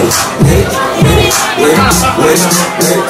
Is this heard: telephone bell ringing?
no